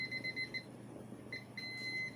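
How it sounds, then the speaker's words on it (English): A kitchen timer beeps in rapid electronic bursts while eggs boil, a short pause between two runs of beeping, moderately quiet over faint background hum. "And there's the timer."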